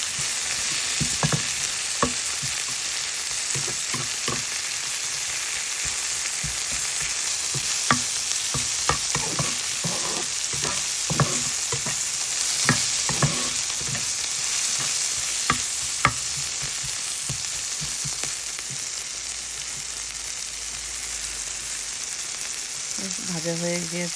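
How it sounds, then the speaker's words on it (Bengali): Ingredients for a leaf bharta fry in a pan with a pinch of turmeric, giving a loud, continuous sizzle with scattered clicks and scrapes of stirring and a brief voice at the very end. "এইভাবে ভেজে নিব"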